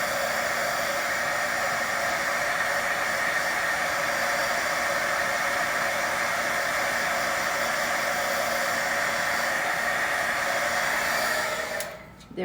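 A heat tool blows over a paper craft with a steady, loud, hissing whoosh that holds constant for about twelve seconds before cutting off abruptly.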